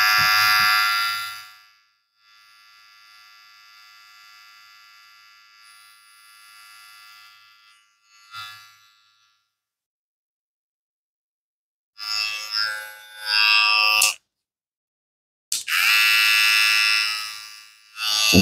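A Kemei KM 264 hair clipper motor switching on and off, a loud high-pitched whine in separate bursts with silent gaps, one longer quieter stretch and several short starts.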